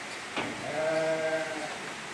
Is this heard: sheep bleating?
yes